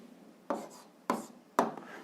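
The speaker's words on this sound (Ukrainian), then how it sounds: "записуємо відповідь, пишемо відповідь" A pen writing an algebra answer by hand on paper, three short scratchy strokes spaced about half a second apart, close and fairly quiet with no speech.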